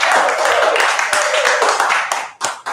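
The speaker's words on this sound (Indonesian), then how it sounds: "Tepuk tangan dulu buat Medi ini." Applause for the speaker Medi at a presentation sharing session, a dense burst of clapping from the audience that fills the clip, briefly dipping near the end.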